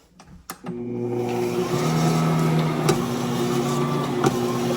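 Stand mixer kneading sourdough hamburger bun dough, a steady motor hum with a low whir that settles into a continuous drone after a couple of soft knocks at the start, close and moderately loud.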